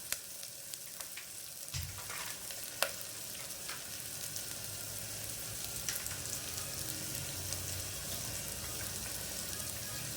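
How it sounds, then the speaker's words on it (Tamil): Onions sauté in a pan with a soft, continuous sizzle, broken by scattered crackles and pops and a few light stirring clatters; quiet and close, with no talking. "வெங்காயம் வதங்கிடுச்சு."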